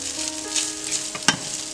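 Rice noodle upma sizzles and crackles as it is stirred and fried in a pan, with a few sharper scrapes of the spoon against the pan over the steady frying hiss, close up and with no speech.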